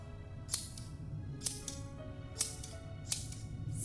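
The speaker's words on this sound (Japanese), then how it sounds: "ハサミは不快な音を立て、せわしなく開閉を繰り返す。" Rusty, blood-stained scissors from the horror game Corpse Party snip open and shut four times in a steady, slightly uneven rhythm, each sharp metallic click standing out against a low ambient drone.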